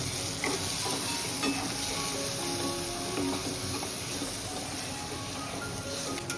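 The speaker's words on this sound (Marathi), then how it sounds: "आता आपण हळद टाकू, त्यानंतर गरम मसाला आणि धना पावडर मस्त मिक्स करून घेऊ" Turmeric, garam masala and coriander powder stirred into softened tomato in a hot pan, giving a steady close sizzle with soft scraping stir strokes throughout and no talking.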